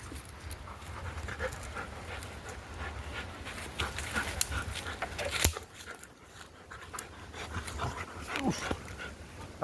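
A Labrador dog pants steadily and close by on a forest walk, the quick breathy rhythm running through the whole stretch with faint rustling and footsteps underneath.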